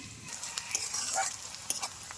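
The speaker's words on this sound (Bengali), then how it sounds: "পেঁয়াজ ভাজা হয়ে গেছে" Onions frying in oil: a steady, close sizzle with a few sharper spits and soft stirring scrapes.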